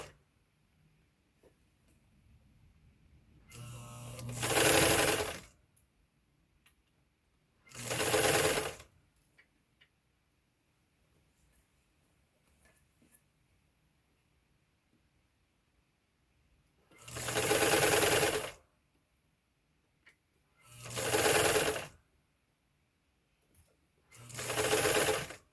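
A sewing machine stitches American Girl doll clothing, a historical pinafore, in five loud separate bursts of rapid needle whirring, with quiet gaps between them while the fabric is turned.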